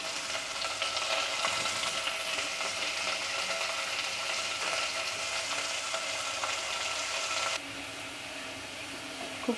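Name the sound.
onions frying in a pan on medium flame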